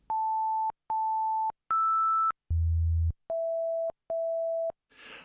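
5.1 surround test tones downmixed in iZotope RX 7: six steady electronic beeps in sequence, each lasting under a second at a slightly different pitch, one a low bass hum, separated by short gaps.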